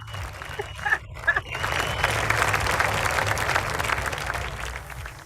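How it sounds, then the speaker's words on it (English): Hand claps over a Zoom call at a group recognition meeting, a few sharp near claps early on, then a fuller patter of clapping that keeps on at moderate level through the rest. "Rocky cutting up with the hand claps"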